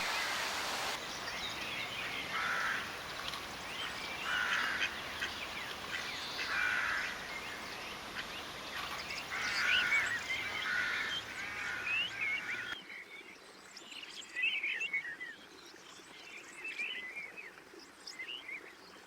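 Common moorhens call repeatedly on a pond, giving short honking notes over a steady outdoor hiss, some near and some farther off.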